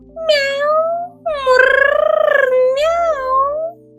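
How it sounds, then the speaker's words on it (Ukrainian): A white cat meows in a storybook sound effect, a few drawn-out, close meows in a row, clear and loud over a quiet background. "Звідкись прийшла до нього біла кицька."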